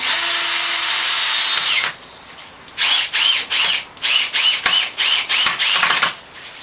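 A power drill drives plain Phillips head screws during bike assembly: after a steady whine, about eight short, loud bursts of motor whir follow one another in quick rhythm, close by, with no voices.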